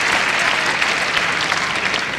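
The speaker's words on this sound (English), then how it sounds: "A number of disturbances coming from the crowd here." Crowd at the 2012 Swiss Open badminton men's singles match between Lee Hyun-il and Chen Long makes a dense, loud, steady wash of clapping and noise throughout a rally, with no clear voices.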